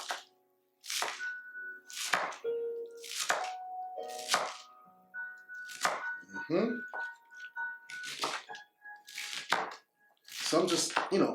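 A knife chops salad ingredients on a cutting board in steady series of sharp thunks, close and clear, with short pauses between runs of cuts and a person talking intermittently.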